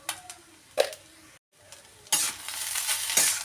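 Egg fried rice with soy sauce, pepper and salt being stirred in a pan: scraping strokes and a soft sizzle, with a brief gap before the frying grows louder and denser toward the end.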